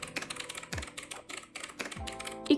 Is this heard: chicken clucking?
no